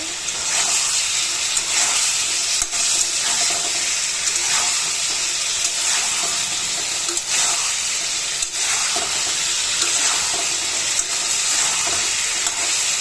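Taro root pieces are stirred with chili, coriander powder and salt in a hot pan, a steady loud sizzle running throughout with occasional scraping strokes of the spoon close by.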